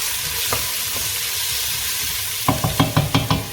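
Onions frying in a pan as the base for keema, a steady sizzle that turns into several louder crackling bursts near the end as they are stirred or moved; close, with no voices.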